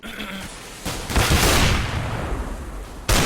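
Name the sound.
gunfire in Counter-Strike match, video game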